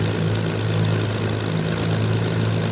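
A Spitfire Mk Ia's simulated engine in Microsoft Flight Simulator holds a steady, loud low drone with layered harmonic hum as the throttle is eased open, with no voices.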